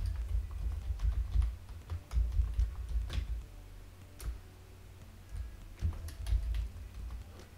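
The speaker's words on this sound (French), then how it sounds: "je vais faire CTRL-C pour copier, CTRL-V pour coller" Computer keyboard being used for Ctrl-C and Ctrl-V copy and paste shortcuts while editing in Revit software, heard as scattered soft key clicks and taps at close range with no talking.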